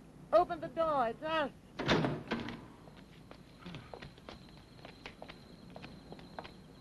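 A door clunks and rattles open after a brief exchange of voices, followed by scattered footsteps and light knocks in a quiet room.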